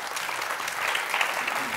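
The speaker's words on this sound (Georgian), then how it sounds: "შესაბამისად, ნოდარიკო იმსახურებს აპლოდისმენტებს" An audience in a TV studio claps for a boy in a short, dense burst of applause that stays steady for under two seconds.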